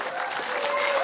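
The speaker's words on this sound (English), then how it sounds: "Everyone give a round of applause to AHmoa." Audience applause fills the room after a thank-you speech at a community event, a steady close wash of clapping that swells slightly toward the end.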